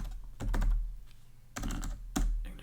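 Someone types an apt update command on a computer keyboard while setting up a Raspberry Pi. A few crisp, close keystroke clusters are separated by short pauses, with no talking.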